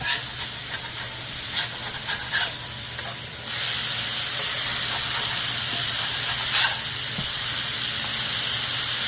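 A smash burger sizzling on a flat top grill, a loud constant hissing fry with a few scraping spatula strokes early on, no one speaking.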